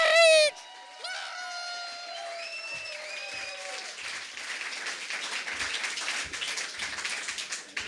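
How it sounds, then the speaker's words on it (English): Audience applause at a Friday night beer slam poetry event, breaking out after a brief tone and a few cheering voices, then swelling into steady, dense clapping that holds to the end. "get ready to applaud"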